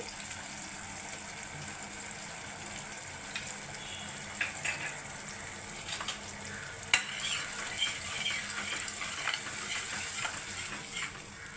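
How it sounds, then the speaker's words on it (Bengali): Ginger and green chili paste frying in a pan, a continuous close sizzle with scraping stir strokes and occasional clicks building slightly toward the end, no voices. "এর মধ্যে আমি একটু আদা আর কাঁচা লঙ্কার পেস্ট দিচ্ছি।"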